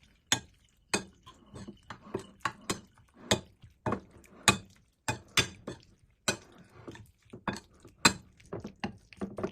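Lamb being mixed with a cornstarch marinade in a bowl, giving a steady run of sharp clinks and taps of utensil against the bowl, close and fairly quiet, with no talking.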